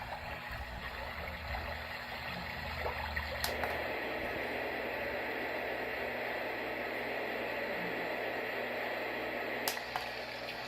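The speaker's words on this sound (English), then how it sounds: "We got the rain." Rain setting on a Homedics white noise sleep machine gives a steady, even hiss of simulated rainfall close by, continuous throughout with a couple of faint clicks and no talking.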